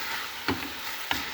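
Chicken pieces stirred while frying in a pan with salt, coriander and pepper, a steady close sizzle broken by two brief scraping stirs.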